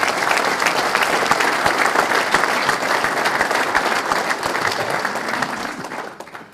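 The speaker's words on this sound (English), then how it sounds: "Can we please get a quick round of applause for these two gentlemen" A conference audience at a golf association spring meeting bursts into loud, sustained applause, with dense clapping that holds steady for several seconds before tapering off at the end.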